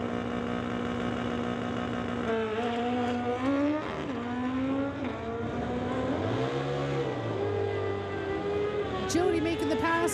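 A drag racing car making its pass at an NHRA Summit ET event, a loud sustained engine drone with rising and falling pitch, heard under continuous commentary.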